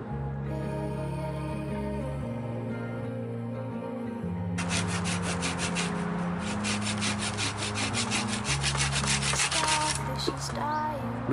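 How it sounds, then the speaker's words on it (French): Steady back-and-forth rasping of a hand saw through wood, growing louder and harsher midway, with a musical drone underneath. "mais c'est une très bonne scie, hein. Ça coupe énormément bien."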